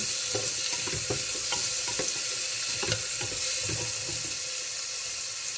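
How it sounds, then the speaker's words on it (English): Onions frying in a pan for a Manthakali Keerai dish, giving a continuous close hiss and crackle with soft, irregular stirring clicks, and no voices. "Then throw the onions. Just wait for the onions to go a little bit brown."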